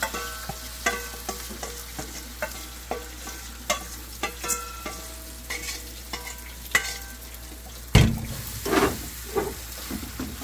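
Vegetable pancake loaded with fresh greens frying in a pan, a soft continuous sizzle with scattered clicks and scraping taps of a utensil, a louder clatter near the end.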